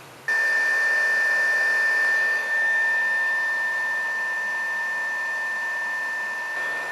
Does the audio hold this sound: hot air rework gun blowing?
yes